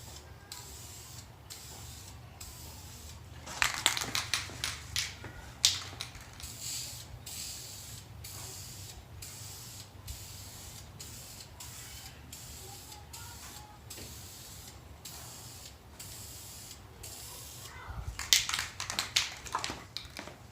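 Blue spray paint hisses from an aerosol can onto a Subaru WRX Depo Racing charge pipe, with short bursts and longer passes recurring through a quiet room, the can's rattle and clicks between sprays.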